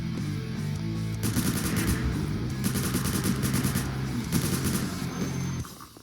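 Automatic gunfire mowing down zombies in the Roblox game Last Run, with loud, rapid machine-gun bursts repeating in quick succession over a constant rumbling game backdrop, then cutting off near the end.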